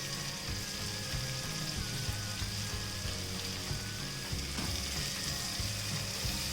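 Thinly sliced cabbage hits a hot pan and fries in a loud, steady sizzle, with faint scraping and shifting as it settles, and no talking.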